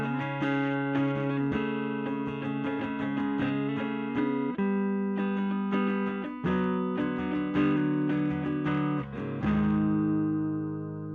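An electric guitar plays clean through a Fender Jazz King amplifier with reverb and drive at zero, giving dry, sustained chords and single notes that ring out in a steady phrase for about ten seconds, with no talking.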